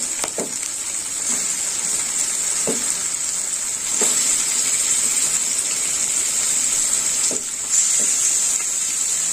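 Chicken added to a well-cooked spice masala sizzling in oil, a loud continuous hiss close up with occasional scraping stirs of a spatula against the pan, no talking.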